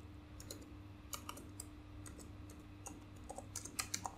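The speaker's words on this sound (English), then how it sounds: "here you can type your program" Fingers type on a computer keyboard in irregular bursts of light, close key taps against a low steady hum, with no talking.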